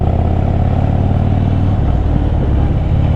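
A Royal Enfield GT Continental or Harley Fat Bob engine drones loud and steady on the road near Pauri, a constant low rumble with no break.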